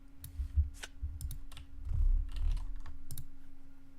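A deck of playing cards for the Arkham Horror card game is shuffled at a table, giving soft repeated riffling clicks and flutters over a steady low hum, with no talking.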